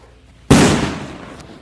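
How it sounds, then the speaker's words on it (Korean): A bomb disposal robot detonates an explosive buried in a road using a blast of high-pressure air: one sharp, loud, close bang that decays into a lingering rumble. "이 로봇은 고압의 공기를 순간적으로 내뿜어 도로에 묻은 폭발물을 폭파시킵니다"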